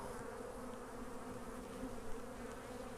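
Honey bees swarming around a hive on a pallet, a dense, steady droning buzz heard up close without pause.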